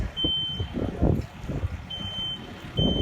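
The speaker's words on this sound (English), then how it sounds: "So there's our smoke alarm. The smoke alarm worked in this case." Short high electronic beeps from a smoke alarm repeat at intervals over a low rumbling background, sharp and steady in pitch, during a fire burn demonstration.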